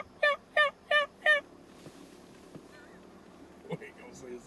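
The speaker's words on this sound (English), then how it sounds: "Look at all them turkeys right there." Wild turkeys in a field give four loud, evenly spaced gobbling calls close by, followed by quieter scattered clucks and faint rustling in an otherwise hushed outdoor setting.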